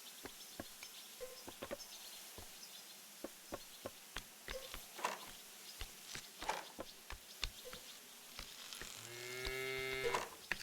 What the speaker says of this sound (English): Look, Abby, that poor cow sure looks thirsty